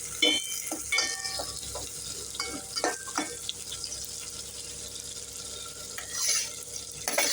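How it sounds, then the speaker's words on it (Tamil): Onions fry and sizzle in a pan while a spoon stirs and scrapes them, preparing a white lady fish curry; steady crackling with intermittent clinks and scraping strokes, close and moderately loud, no talking. "வெங்காயம் ஒரு கண்ணாடி பழத்துக்கு வதங்கிட்டோம்."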